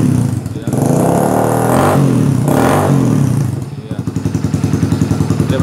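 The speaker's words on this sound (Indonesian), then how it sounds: "Kita coba gas lagi." A Kawasaki W175 SE motorcycle fitted with a Sniper aftermarket exhaust revs up twice in loud, close bursts, the engine swelling and falling back before settling into a rapid, throbbing idle.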